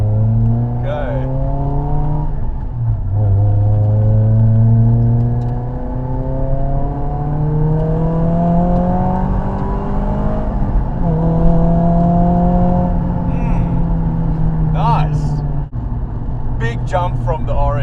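A Nissan S15 Silvia engine pulls through the gears from inside the car, rising in pitch with each gear and dropping at every shift, loud and close, with a few brief voices near the end.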